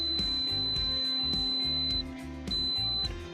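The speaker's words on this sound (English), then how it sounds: "a beep sequence of 1 long beep and 1 short beep will sound" Electronic tone from a power-folding towing mirror upgrade on a 2015-2020 Ford F150 with 22-pin mirrors, sounding one long beep followed by one short beep, clear and close over a patterned background of music.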